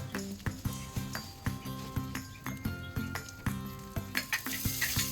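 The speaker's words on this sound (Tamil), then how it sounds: "வெங்காயம் கொஞ்சம் வதங்கட்டும்." Shallots sautéing in a pan for a South Indian fish curry, with steady sizzling broken by regular stirring and scraping strokes, moderately loud and close, no voices.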